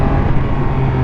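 Triumph Speed Triple 1200 motorcycle engine held at a loud, steady high rev for a wheelie, a dense close-up roar with no break over a brief moment.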